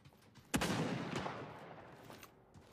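A single sharp gunshot cracks out in the online game Anarchy 77, followed by a decaying echo and faint background game ambience.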